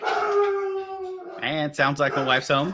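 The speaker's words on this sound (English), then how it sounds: "I don't know if you heard the dogs in the background." Several dogs howl together in a long, steady, wavering chorus for the first half, then someone speaks nearby while the howling continues faintly behind his voice.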